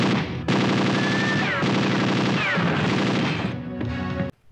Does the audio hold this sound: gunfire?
yes